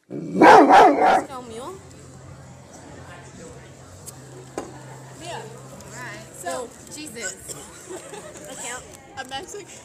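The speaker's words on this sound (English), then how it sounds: "Bark at him, Duke." A dog barks in a loud burst of several close barks at the start, then quieter yips follow while people talk over it.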